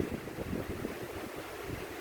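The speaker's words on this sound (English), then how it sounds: "it's so windy" Strong wind buffets an outdoor microphone, a steady low rumbling roar with gusty swells that carries on for two seconds with no voices.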